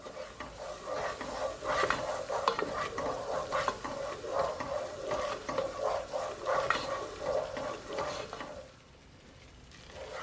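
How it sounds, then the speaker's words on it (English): A spoon scrapes and swirls plain flour in a pot for lobster mac and cheese, quiet repeated rubbing strokes in a steady rhythm that fade out near the end. "So you're just gonna give it a stir."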